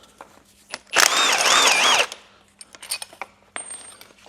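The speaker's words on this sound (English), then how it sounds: "The old 14mm socket coming into its own here with the inverted Torx bolts." A 14mm socket on a power tool undoes inverted Torx bolts on a banger racing car being prepared for a meeting, giving one loud, steady whirring burst of about a second, then clinks and light rattles of parts.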